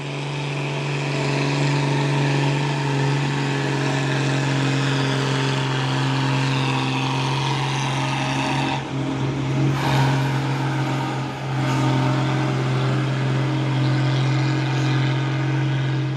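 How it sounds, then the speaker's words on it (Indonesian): An orange Fuso 6x4 HD truck climbs the Bukit Kodok incline in the morning, its engine droning loudly and steadily with a strong low hum and brief dips in pitch as it labours up the slope. "Masuk lagi satu unit truk Fuso Oren pemain 6 kali 4 HD. Wus, melewati tanjakan Bukit Kodok di pagi hari."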